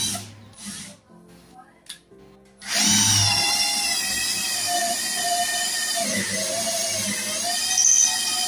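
A Bosch GSB 120-LI cordless drill bores with a larger bit, a loud sustained high motor whine that starts abruptly after a couple of seconds of quiet handling knocks and holds steady, dipping briefly under load.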